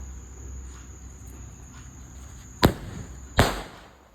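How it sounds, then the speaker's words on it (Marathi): Two sharp bangs of a double-shot firecracker go off in quick succession against a steady chorus of chirping crickets at night. "त्यांचा मुलगा फटाके लावत होता."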